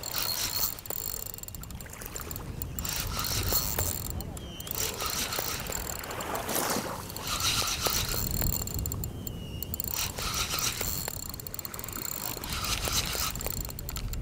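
A fishing reel's drag buzzes and clicks as a king mackerel makes its first run during shore jigging, the ratcheting steady and close, with wind and sea noise around it.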